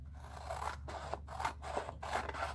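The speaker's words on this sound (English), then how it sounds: "So I'm going to go ahead and cut that out" Scissors snipping through printed vintage wallpaper paper, a close, quiet run of four or five rhythmic rasping cuts with short pauses between them.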